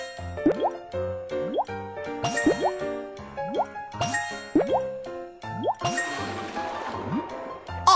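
Cartoonish bubbly plops and rising watery bloops repeat in a quick rhythm as water fills connected pipes in a children's bulldozer game, followed by a brighter splashy gush, all clean and close with no talk.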